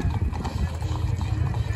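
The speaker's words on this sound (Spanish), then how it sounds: "Montones de caballos" Many horses clip-clop in steady rapid hoofbeats, loud and close, with people talking over them.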